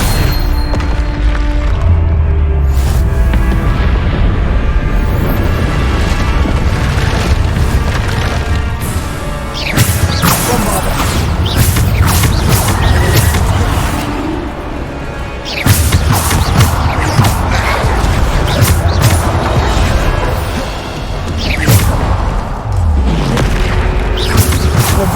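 Bombarda explosion spells cast in a Hogwarts Legacy battle, loud booming blasts repeating across a long stretch of noisy combat, with crashes and splintering between them.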